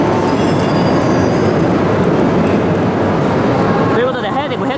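A Hayate Shinkansen bullet train arrives at a station bound for Tokyo, a loud continuous rumble and rush of wheels on rails that eases toward the end as someone talks over it.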